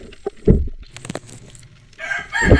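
A chicken lets out a brief, close squawk and some flustered clucking amid rustling and scattered knocks, ending with a louder burst of noise.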